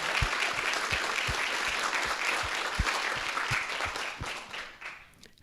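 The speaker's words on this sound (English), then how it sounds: "can we give a quick round of applause for Holly?" Audience applause in a room at a distinguished alumni award event, a steady wash of many hands clapping with a few louder, nearer claps standing out, fading slightly at the close.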